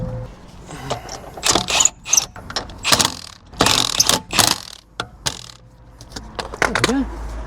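A wheel goes back onto a 2012 Mercedes during a brake job, with bursts of loud ratcheting and clanking metal as the lug bolts are run in, coming in uneven spurts with short pauses between.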